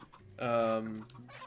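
A single farm fowl, among turkeys and other poultry, gives a loud, close, drawn-out clucking cry lasting about half a second, with faint murmurs around it.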